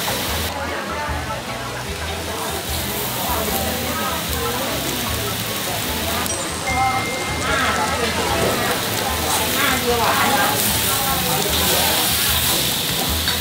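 Vegetables and bacon fry with garlic on a hot Thai grill pan, giving a steady, dense sizzle and crackle that stays loud and close throughout, with voices talking over it.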